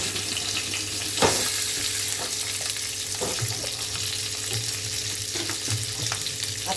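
Asafoetida dropped into hot oil in a home kitchen pan, a steady broadband sizzle running throughout with a sharp crackling burst early on and a few softer pops and spatters later, no voices.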